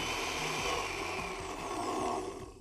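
A liquidizer blitzes feta and Greek yogurt with a steady motor whine and a churning rush that stays constant throughout, moderately quiet and with no voices.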